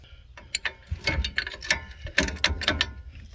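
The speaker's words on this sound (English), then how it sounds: "All right, caliper bolts are loose." Ratcheting on brake caliper bolts, rendered as a close series of quick, uneven clicking bursts with metallic pawl clatter and brief pauses, with no one talking.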